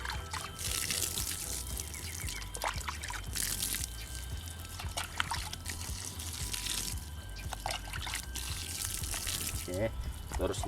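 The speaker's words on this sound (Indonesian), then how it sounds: "selepas menanam ini saya akan siram" Water trickles and splashes steadily onto soil while a newly planted hati-hati flower is watered, a soft continuous pouring wash with faint background noise throughout.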